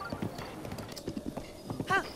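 Horse hooves clip-clop at a steady trot in the video game Zelda: Breath of the Wild, with a brief whinny near the end and a voice talking intermittently over the footfalls.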